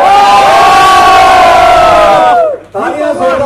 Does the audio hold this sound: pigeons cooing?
no